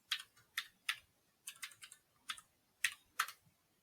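Someone types a password on a computer keyboard, producing soft, crisp key clicks in short irregular bursts, close by and quiet, with no speech.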